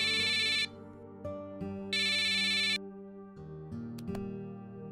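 A phone rings with a repeating electronic melody, bursts of bright tones recurring every second or so at a moderate, close level.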